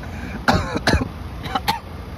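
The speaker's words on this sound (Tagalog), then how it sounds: "Inuubo na." Several close coughs come in two short clusters, harsh and throaty, with a faint background rumble.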